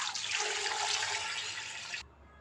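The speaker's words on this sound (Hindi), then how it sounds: "2 लीटर जी मैंने पानी डालूंगी इसके अंदर।" Water pours steadily into a pressure cooker holding goat trotters, onion and spices, a close bright splashing stream for about two seconds that stops abruptly.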